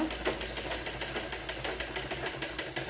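A sewing machine runs steadily while stitching a quarter-inch seam through two layers of blouse fabric, a fast continuous mechanical chatter with a faint rhythmic pulse, close and unaccompanied by voices.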